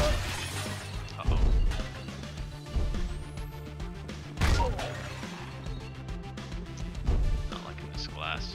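Glass shatters repeatedly in the top-down action game Mr. Shifty, several sharp crashes spaced a few seconds apart over game music and effects.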